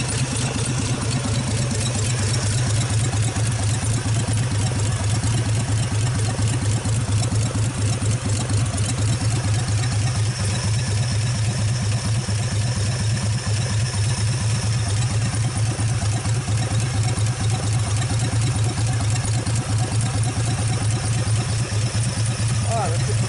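A 1948 Nash engine idles steadily with no exhaust system fitted, giving a loud, continuous mid-pitched clatter and hum that runs unbroken from start to finish.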